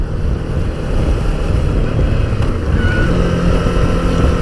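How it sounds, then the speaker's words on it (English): A 2017 Suzuki V-Strom 650 motorcycle engine rumbles steadily on a rough road while downshifting, loud and close with constant wind buffeting over the low engine drone and no talking. "Love the sound of this. As you change down, she sounds really grunty."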